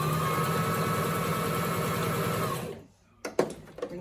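A Brother sewing machine, LX17 or LX25, sewing very close stitches at the same stitch number, runs with a steady mechanical whir close up, then stops and gives a few clicks as the hand wheel turns.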